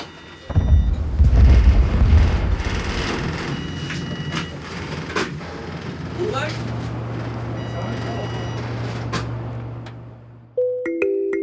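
A blasting explosion goes off at the McIlvenna Bay mine project, a deep, heavy boom rolling out near the start. A long low rumble then fades under a steady drone.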